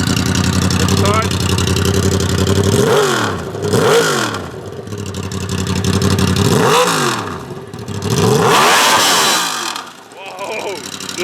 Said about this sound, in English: I'll let it run for a minute to warm it up, and we're gonna rev it.